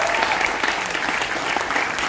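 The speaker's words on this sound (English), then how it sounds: "I would like requesting you to give all a round of applause for the program." An audience at an Indian Student Association Diwali event in Delft applauds for the program. The clapping is loud, dense and continuous, with no pauses across the short stretch.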